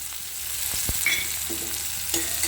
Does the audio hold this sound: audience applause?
no